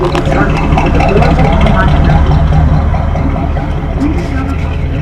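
An old V8 engine idles nearby on a small plaza along Route 66, a steady low rumble that holds evenly with traffic and street noise around it.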